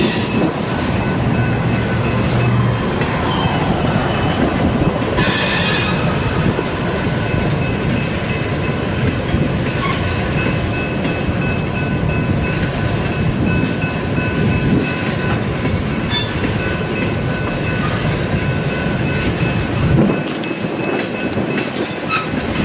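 A train rolls past on the tracks in Fremont, Nebraska, loud and close, with a continuous rumble of wheels, faint squeals and clicking rail joints throughout, and no talking.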